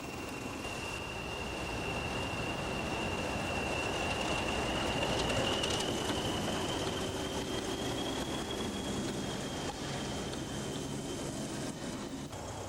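An English Electric Type 4 Class 40 diesel locomotive on the East Coast Main Line gives off a steady, broad engine rumble with a high sustained whine, heard at a moderate distance with no voices.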